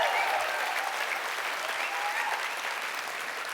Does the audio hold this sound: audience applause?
yes